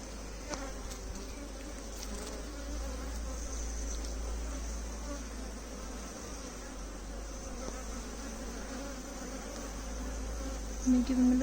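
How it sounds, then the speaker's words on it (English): Honeybees buzz around a beehive frame, a steady close drone of many insects with individual bees passing near, and occasional faint voices in the background. "I think the bee probably climbed all the way up inside."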